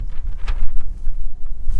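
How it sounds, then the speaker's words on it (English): Heavy wind buffets the microphone in a low, rumbling roar with gusty pulses throughout, outdoors at a shooting session. "it's really windy as you guys can tell out here."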